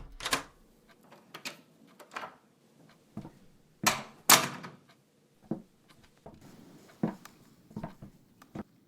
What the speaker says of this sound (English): I'm opening the door.